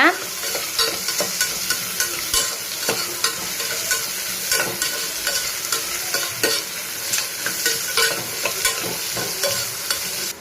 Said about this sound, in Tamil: இப்போ காயெலாம் நம்ம கேரட்டு, பீன்ஸு, உருளைக்கிழங்கு எல்லாத்தையும் போட்டுக்கோங்க. அதையும் நல்லா வதக்கிக்கோங்க.